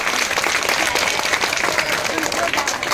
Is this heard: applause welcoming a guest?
yes